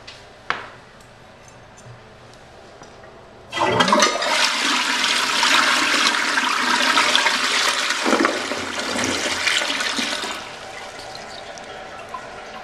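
An early-2000s Eljer Patriot toilet: a click of the handle, then a sudden loud rushing flush that swirls for several seconds before easing into a quieter refill trickle, close by and without talk.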